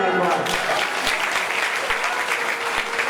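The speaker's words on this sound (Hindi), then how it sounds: "जोरदार तालियां एक बार" A crowd at a Bhagwat Katha in a temple claps vigorously, a dense, close burst of applause with a few sharp individual claps standing out, a voice briefly audible at the start.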